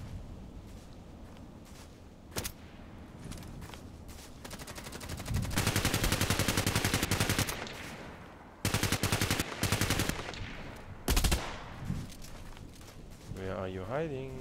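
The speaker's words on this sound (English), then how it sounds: "Somebody shooting at him?" Gunfire from a SCAR-L rifle in a shooter game, with loud sustained automatic bursts and single cracks over several seconds, interleaved with quieter stretches while someone talks.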